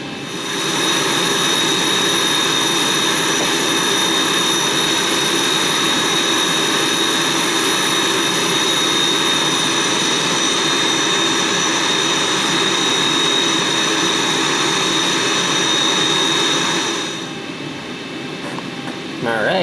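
A Boeing 737-700's jet engines roar during takeoff in the X-Plane 11 flight simulator, a loud sustained whine and rumble with steady high tones that holds strong, then dips slightly near the end.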